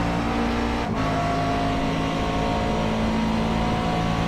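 Radical race car overtaking a McLaren at full throttle heading into the carousel at Watkins Glen, a loud sustained engine roar held steady throughout with no talking.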